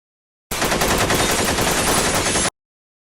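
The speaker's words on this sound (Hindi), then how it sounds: "यहाँ पर कोई फायरिंग कर रहा है।" Rapid, sustained automatic gunfire from a battle scene in an Indian army war film, a loud continuous burst lasting about two seconds with no voices over it.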